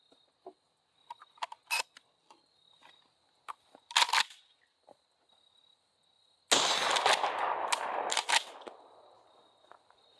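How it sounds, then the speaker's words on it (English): Gunshots fired to test a Cyelee T10 X PRO red dot optic: a scatter of sharp, brief cracks early on, then a longer dense burst of loud rapid reports near the end, with quiet gaps between. "we're going to go ahead and put these rounds through here, get them to fire so we can check the optic"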